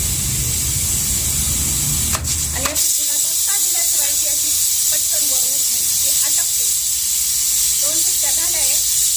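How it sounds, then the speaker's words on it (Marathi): Steady loud hissing of steam escaping from a pressure cooker of chicken biryani on a wood-fired stove, continuous throughout, with a voice speaking faintly underneath. "थोडीशी वाफ जाऊ देणार आहे"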